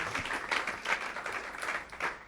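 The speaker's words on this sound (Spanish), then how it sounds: "Un aplauso para Mary." Audience applause for a speaker at a creativity panel, a short, moderately loud patter of clapping with uneven swells and dips over a couple of seconds.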